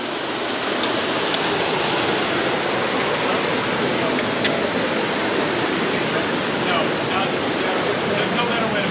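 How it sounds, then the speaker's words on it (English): A waterfall roars steadily along a rocky hiking trail near a ghost town, a loud, unbroken wash of rushing water that fills the whole scene. "Third waterfall."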